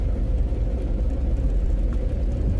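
A vehicle engine runs in second gear with a steady low rumble and whir, moderately loud and unbroken throughout, without any talking.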